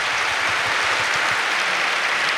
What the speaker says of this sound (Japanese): 皆さんもどうぞ拍手でお祝いください。